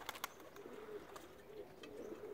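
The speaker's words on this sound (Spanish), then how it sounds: "mira cómo ruge la paloma" A pigeon coos softly in a loft as a hen is released among males, with low repeated cooing phrases and a few faint clicks and wing rustles in the background.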